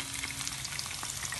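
Chopped green onion sizzles and crackles steadily in a hot pan, a close, continuous frying hiss with faint stirring scrapes and no voices.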